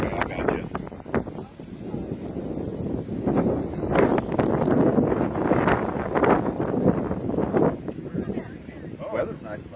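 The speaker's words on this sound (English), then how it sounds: "Weather's nice, right? So windy." Gusty wind buffets a microphone outdoors on a windy day, a steady loud rumble with bursts throughout, with people talking over it.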